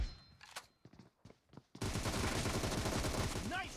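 Video game gunfire opens with a few scattered shots, then erupts into a loud, sustained burst of rapid automatic fire that fills the remainder of the moment.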